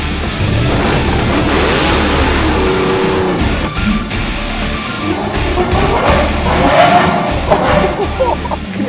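A Lamborghini accelerates in a convoy procession near the factory at Sant'Agata, its engine note rising and falling loudly and up close, with someone talking over it through much of the stretch.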